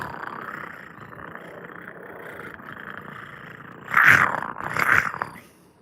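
A man imitates a wild cat growl, two rough, throaty rasping bursts near the end rising out of a steady low murmur of background noise.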